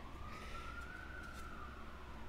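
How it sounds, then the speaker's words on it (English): Faint emergency siren in the distance in Melbourne's city centre, a thin wailing tone slowly rising and falling beneath a steady low rumble of background noise. "Can you hear the siren outside?"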